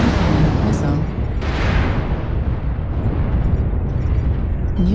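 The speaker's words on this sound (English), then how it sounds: "Warning, incoming missile." Rumbling missile impacts and explosions in the mech combat game MechWarrior Online on a polar highlands map, a dense continuous roar of blasts with a few sharper bursts, loud and close throughout.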